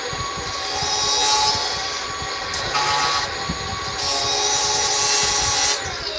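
A power tool sands wood with 120-grit abrasive, a loud, whining grind that rises and falls in several bursts as the tool presses into the workpiece and eases off, with no talking.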